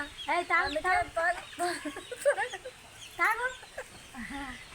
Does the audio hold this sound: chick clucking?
yes